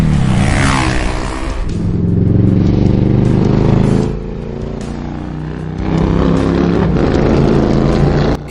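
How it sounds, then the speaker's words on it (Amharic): A motorcycle engine roars steadily at close range, its revs swelling and dipping a couple of times. "የስፖርት ሞተሩ ወስዳለሁ።"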